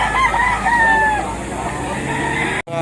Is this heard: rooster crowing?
yes